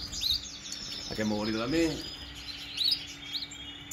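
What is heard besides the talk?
show birds chirping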